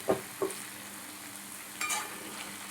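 Bitter gourd curry with chili powder is stirred in a pan: a few scraping strokes of the spoon over a soft, steady sizzle, close and fairly quiet.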